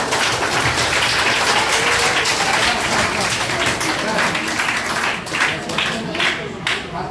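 Students applaud at a birth-anniversary celebration at Deshabandhu Vidyapith High School, a dense patter of many hands that goes on throughout, with voices mixed into the crowd noise.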